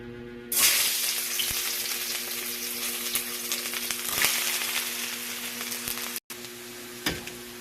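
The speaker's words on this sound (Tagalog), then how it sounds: "Igisa muna ang bawang, sibuyas, luya sa olive oil" Garlic, onion and ginger hit hot olive oil with a sudden loud sizzle that keeps up steadily. Occasional stirring knocks sound over it, and it cuts out for a moment near the end.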